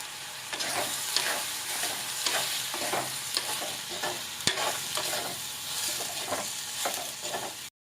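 Sambar vegetables sauté in a pan with turmeric, chili and coriander powders, a spoon scraping and stirring in repeated strokes over a continuous close sizzle, with no voices.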